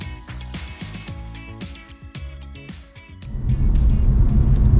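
A 2022 BMW 220i Coupe drives on the road with an engine hum under a rhythmic thumping, giving way to a louder, steady rush of road and engine noise near the end.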